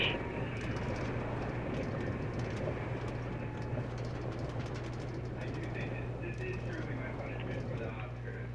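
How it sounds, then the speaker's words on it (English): Subway train rolling past at a steady, loud roar with a low continuous rumble throughout, a voice talking over the noise. "Nobody cares about the subway."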